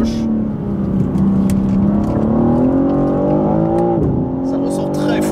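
A 2023 BMW M3 CS G80 accelerates hard out of corners, its engine roar climbing steadily in pitch, then dropping briefly at a gear change before pulling again, loud and close from inside the car with someone talking over it.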